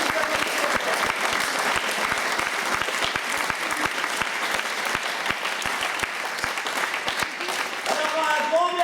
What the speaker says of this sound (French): Donc on peut vous applaudir